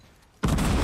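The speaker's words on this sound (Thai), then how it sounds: "ระเบิด" An explosion in the Fortnite video game bursts in suddenly after a quiet lead-in, a loud broadband blast that holds steady to the end with a rumbling, crackling texture.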